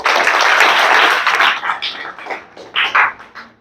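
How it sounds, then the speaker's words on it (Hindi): A classroom of students claps together in a dense burst for about a second and a half, then the clapping thins and fades while a few voices speak over the tail end. "ताली बजाओ जी।"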